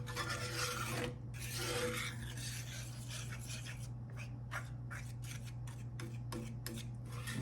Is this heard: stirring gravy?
yes